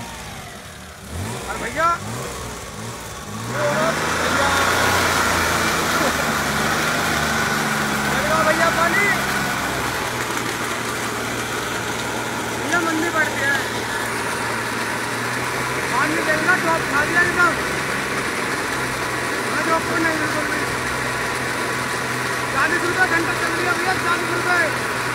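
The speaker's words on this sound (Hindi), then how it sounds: "यू तो होगी गाड़ी स्टार्ट, आ रही है भैया गाड़ी की आवाज।" Vehicle engine in an Indian village starting up, then running and idling steadily at close range, with someone speaking over it.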